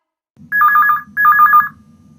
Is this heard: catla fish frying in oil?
no